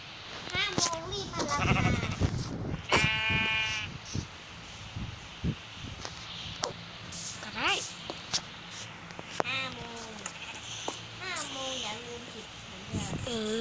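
Sheep bleat repeatedly in a Thai city-map video game, with several wavering cries spread through the scene beneath steady overlapping chatter from players talking.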